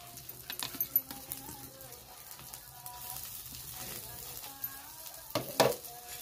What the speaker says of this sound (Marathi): सुरुवातीला ना कांदा परतून घेऊ आपण